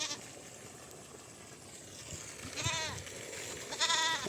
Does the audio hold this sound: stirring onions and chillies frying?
no